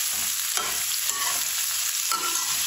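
Food is stirred and fried in a pan for an egg and cauliflower dish, giving a steady sizzle with a few scraping stirs of the utensil and no talking.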